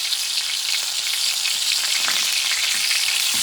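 Pork chops fry in a hot pan with a steady, loud sizzle throughout, with a few soft clatters as they are turned over.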